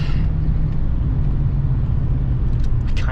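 Steady low rumble of a 1995 Ford F150 Eddie Bauer two-wheel-drive pickup's engine while driving on light throttle, a constant dense drone from inside the cab with no talk.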